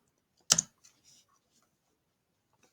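A single sharp keystroke on a computer keyboard, close and crisp, followed by a couple of faint lighter taps in an otherwise quiet room.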